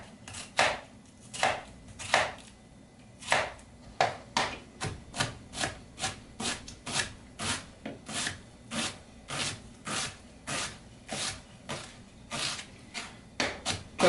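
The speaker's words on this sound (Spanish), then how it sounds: "voy a cortarlo horizontalmente y después verticalmente así para cortarlo en cuadritos pequeños" A knife dices an onion into small cubes on a board, first cutting horizontally and then vertically; crisp, close chops land in a steady rhythm of about two per second, alone and without talk.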